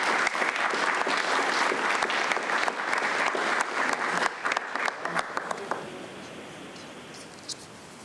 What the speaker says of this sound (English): Let's give our volunteer coordinators another round of applause